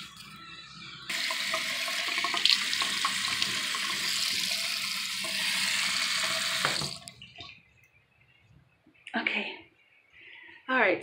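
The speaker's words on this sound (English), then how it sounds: "I just finished rinsing off my face" Tap water runs steadily for several seconds while a face mask is rinsed off at a sink, a close hissing stream that stops abruptly, followed by brief talk.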